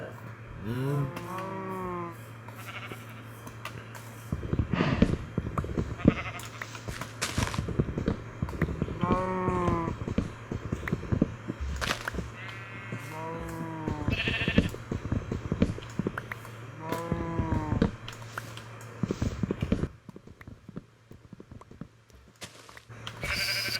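Pink sheep in Minecraft bleat repeatedly in short wavering calls, several spread across the stretch at moderate distance, over a faint steady hum.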